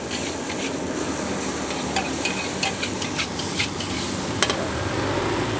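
Nasi goreng gila being stir-fried on a street food cart near a mosque, with a steady sizzling hiss and intermittent scraping and clinking of the spatula against the wok throughout.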